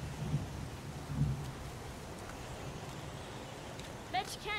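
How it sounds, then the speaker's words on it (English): Steady pouring rain hisses throughout a dark outdoor scene in the Heavy Rain video game, with a couple of low thumps and a brief high chirp near the end. "It's pouring rain."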